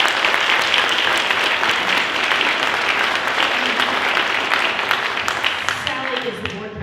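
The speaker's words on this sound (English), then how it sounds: "let's give a round of applause again for our cellist" A concert audience applauds a cellist, a loud, dense roar of clapping that holds steady for several seconds and then starts to thin and fade toward the end.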